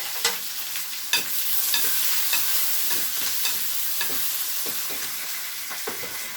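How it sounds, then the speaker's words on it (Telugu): Onion and tomato pieces fry in hot oil with curry leaves in a pan, a loud continuous sizzle close up, broken by regular scraping stirs of a spatula. "కరివేపాకు అవి వేగిన తర్వాత ఉల్లిపాయ ముక్కలు వేసుకోవాలండి ఉల్లిపాయ ముక్కలు వేగాక టమోటా ముక్కలు వేసుకుందాం"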